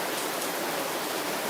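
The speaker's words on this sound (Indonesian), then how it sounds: "lihatlah hujan ini yang disertai dengan kilat dan guntur" Steady rain falls in a dense, even hiss throughout, with no distinct thunderclap standing out.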